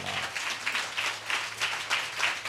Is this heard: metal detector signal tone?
no